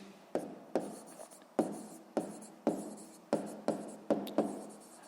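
A pen scratches across paper in a sixth-grade math lesson, about nine quick, distinct strokes in an uneven rhythm, close and quiet with no talking.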